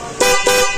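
A car horn, freshly wired through a relay, gives two short, loud blasts in quick succession, close up with a brief gap between them.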